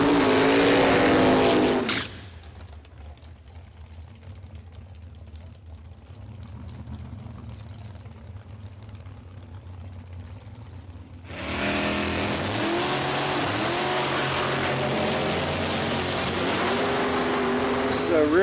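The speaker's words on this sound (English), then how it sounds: "A rear-engine dragster, 285-inch car, runs a blown alcohol, and it's unique in the fact it runs a small block Chevy" A rear-engine 285-inch dragster with a blown, alcohol-fuelled small block Chevy engine roars loudly at the start, drops to a lower distant rumble, then surges back with loud, rising revs at close range.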